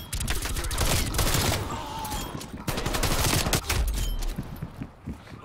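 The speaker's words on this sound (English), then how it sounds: "he just randomly shoots through the wall" Rapid automatic gunfire in Black Ops Cold War on Nuketown 84, a weapon firing through a wall in fast, loud repeated bursts across the whole clip.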